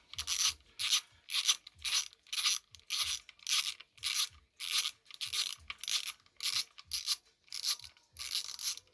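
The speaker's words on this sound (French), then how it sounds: "Donc je vais déjà dévisser ces deux là." A ratchet wrench loosening two bolts, heard as a steady, regular series of close, loud clicking strokes, roughly two per second, with short pauses between sweeps and no voices.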